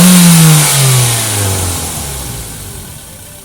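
A Mitsubishi Xpander with a light-tuned 1500cc 4A91 engine revs loudly up close, the note sweeping down from a sharp rev as it settles toward a steady idle.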